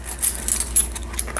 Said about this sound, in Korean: 동전들